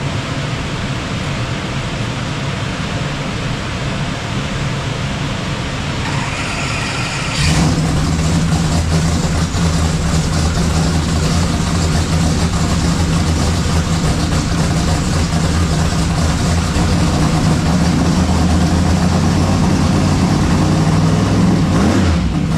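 A Kasper Performance E-gate car engine on a Fueltech dyno roars in after a quiet start and holds a loud, steady drone, rising slightly toward the gear change near the end, with no voices.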